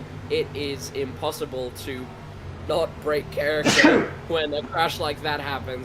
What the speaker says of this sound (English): someone had a huge sneeze